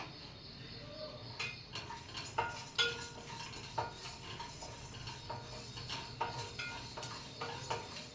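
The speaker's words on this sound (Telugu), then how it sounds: "ధనియాలు కొబ్బరి ఇవి కూడా లైట్గా ఫ్రై చేసుకుందాం" Coriander seeds and coconut stirred in a pan, with a spatula scraping and clinking against the metal in irregular taps over a faint background hiss, close and moderately quiet.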